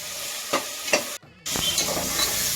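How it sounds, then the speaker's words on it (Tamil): Tomatoes go into a pan of frying onion, ginger and garlic for mutton biryani: a couple of stirring scrapes, a brief gap, then a loud steady sizzle. "இப்போ தக்காளி போட்டுக்கலாம்."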